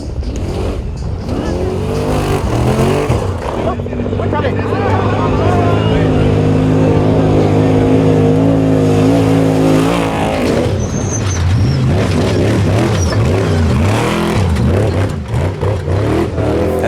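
An off-road race vehicle powers through a big silt bowl in the San Felipe 250, its engine revving hard and close with rising, shifting pitch sweeps, and intermittent talk over the noise.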